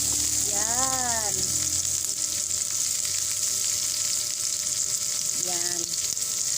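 Onions sizzle in a frying pan while Filipino Pork Bicol Express is cooked, giving a steady, close, loud hiss throughout, with a voice speaking briefly twice over it.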